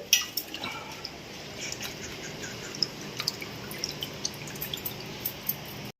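Raw crabs are rinsed in a pot of water for cooking crab curry, with soft splashes and scattered drips trickling close by at a gentle, uneven pace.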